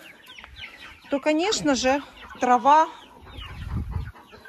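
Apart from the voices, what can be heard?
chickens clucking while free-ranging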